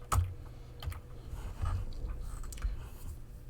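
A value is typed on a computer keyboard in a few soft, close key taps with uneven spacing, over a low background hum.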